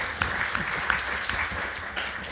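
Audience applauding to welcome a panel at a science education conference session, a steady wash of many hands clapping at moderate distance for a couple of seconds with a few sharper individual claps standing out.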